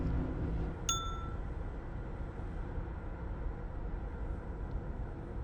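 A single bell sound from the video game Myst (2021) rings once, a brief clear chime that fades quickly, heard over a steady low ambient rumble.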